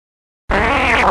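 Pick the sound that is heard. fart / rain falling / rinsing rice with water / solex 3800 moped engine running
fart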